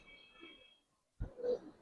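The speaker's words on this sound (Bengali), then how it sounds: "দেখেন কবুতর" Pigeons in a loft of Giribaz and colored breeds give a faint low coo, then fall quiet before a louder, closer throaty coo rises again, with no talking.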